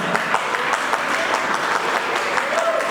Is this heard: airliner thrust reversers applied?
no